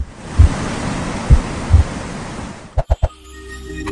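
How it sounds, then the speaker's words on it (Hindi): Rushing water at Bhivtas waterfall in the Satpura hills near the Gujarat-Maharashtra border, a steady broadband roar with a few low thumps, ending in a brief cluster of knocks. "भीवतास वाटरफॉल।"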